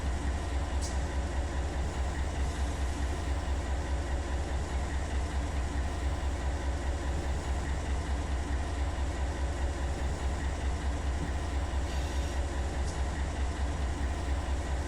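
A freight train locomotive rumbles steadily in a rail yard, a continuous low engine drone with faint metallic clanks, holding an even level throughout with no talk.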